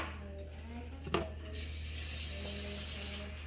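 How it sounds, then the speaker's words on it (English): A nearly empty cooking oil spray can, turned sideways, gives a steady hissing spray lasting under two seconds over a low kitchen hum, after a few faint clicks. "When you got a little bit of spray left, if you turn it sideways and you spray the can right side up"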